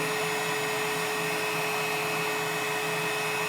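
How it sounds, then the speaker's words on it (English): Nitty Gritty 1.0 record cleaning machine with its vacuum running, a steady close whine and hiss with a constant hum, drawing fluid off a vinyl record. "now that the vacuum's on, we want to rotate this around"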